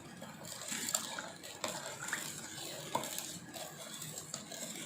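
Powdered sugar is stirred into milk in a bowl to make a sweet syrup, with light, irregular clinks and scrapes of a spoon against the dish, close and fairly quiet.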